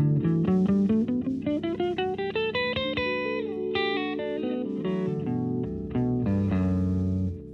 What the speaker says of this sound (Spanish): Voy al modo lidio, que acá vendría a ser la escala de sol mayor sobre un do mayor